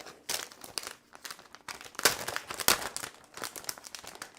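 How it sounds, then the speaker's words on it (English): A paper sentiment being die cut with a "You Are So Sweet" add-on die in a card-crafting session, crisp crinkling and rustling of paper handled close up in uneven bursts, with no talk. "I'm gonna die cut my sentiment"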